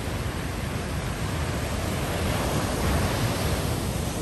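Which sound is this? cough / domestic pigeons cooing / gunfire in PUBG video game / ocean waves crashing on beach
ocean waves crashing on beach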